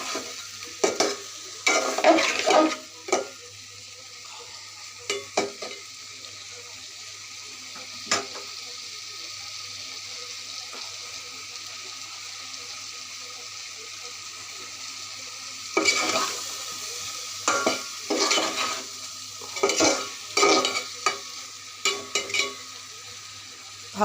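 Chunks of taro being stirred and sautéed in a pan for a rohu fish curry, with bursts of scraping and clattering from a spoon against the pan over a quiet, steady sizzle, separated by calmer stretches.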